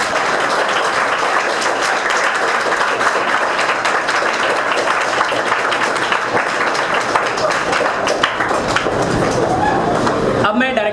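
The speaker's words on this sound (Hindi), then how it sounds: "आप सब लोगों की ज़ोरदार तालियों के बीच मैं इनवाइट करना चाहूँगा वेरी वेरी वेरी टैलेंटेड और बहुत ही हम्बल पर्सन मिस्टर आनंद बाबू सर।" Audience applause welcoming a guest onto the stage at an interview event, sustained loud clapping for about eleven seconds that stops abruptly at the end.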